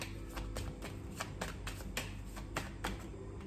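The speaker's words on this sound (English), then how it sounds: "So as I'm shuffling," Tarot cards being shuffled by hand, a run of crisp riffling bursts repeating in an even rhythm, close and moderately loud.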